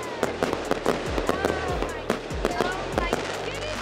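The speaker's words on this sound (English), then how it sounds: "They're about to shoot off some fireworks." Fireworks shot off over a lake at night during a Fourth of July weekend, a rapid string of sharp crackling pops and bangs, loud and close, firing in quick irregular bursts.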